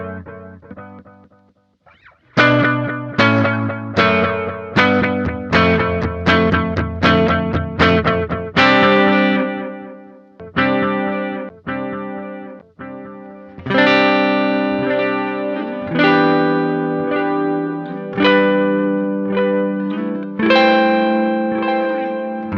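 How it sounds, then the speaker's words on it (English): Electric guitar through a Sonicake Levitate delay and reverb pedal, near self-oscillation: strummed chords and picked notes ring out with long echoing repeats and distorted, washy swells that build into layered sustained soundscapes, with no talking. "so you can really build a lot of soundscapes as you play with that delay"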